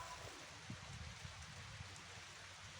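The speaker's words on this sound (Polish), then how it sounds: "Słyszycie pewnie jak pada, nie?" Rain falls steadily outdoors near an apartment block, a soft continuous hiss with low rumbling underneath, fairly faint and unbroken throughout.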